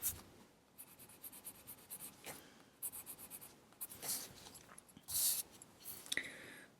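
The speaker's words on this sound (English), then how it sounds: "I'm using the black pencil to shade" A black pencil shading on paper, close and quiet, with a series of short scratchy strokes in uneven rhythm and a few brisker passes.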